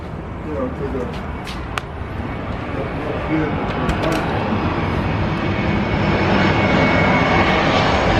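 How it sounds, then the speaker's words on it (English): Airplane passing overhead, a broad engine roar that builds steadily louder over several seconds, heard outdoors beside a parked car with someone talking over it. "lot of planes fly by."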